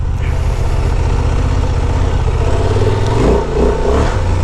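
A Honda Transalp 750 motorcycle engine runs steadily and close during off-road maneuvers, a continuous throaty hum that swells briefly in a short rev near the end.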